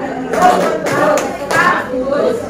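Children in a classroom clap together through a simple group clapping game pattern, producing a few rhythmic bursts of claps, with voices talking alongside them.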